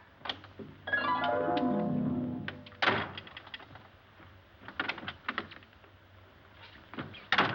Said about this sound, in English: Doors just don't open and shut themselves.